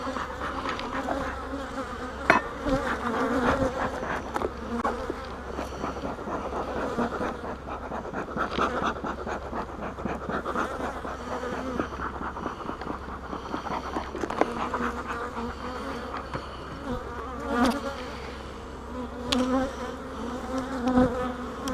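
Honeybees swarm around an open hive with a dense, continuous buzz that stays loud and close for the whole stretch, with occasional scrapes and bumps from the hive work and no talking.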